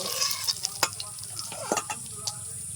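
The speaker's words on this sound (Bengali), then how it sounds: "মাছ ভাজা এই তেলটাতেই আলু ভেজে নেব" Potatoes fry in oil left over from frying katla fish, a soft continuous sizzle under a series of sharp scraping and tapping stirs against the pan, close by, with no talking.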